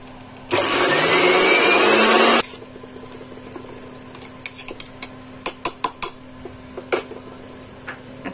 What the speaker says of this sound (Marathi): आणि जिरे मिक्सरला पेस्ट करून घेऊया।